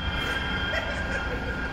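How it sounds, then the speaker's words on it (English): A tram rolls past outdoors with a steady rumbling and faint rail squeal, a continuous moderate wash of traffic noise with no talk. "Tram, look, tram, there you go."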